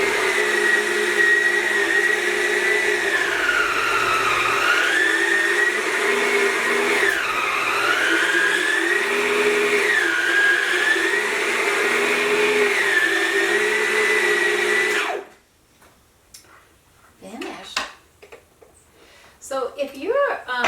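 A Yonanas frozen treat maker grinds frozen strawberries into ice cream with a loud motor whine for about fifteen seconds, its pitch dipping and rising under load, then stops, followed by quieter handling noises.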